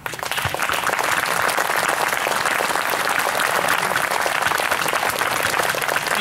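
Audience applause welcoming Senator Doherty at a Declaration of Independence event, a dense, steady wash of clapping from a crowd, loud and sustained for the whole stretch without any talk.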